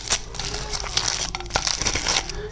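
Crispy fried potato tikki samosa crunching loudly up close, several sharp crackly bites and breaks in quick, uneven succession, with no talking.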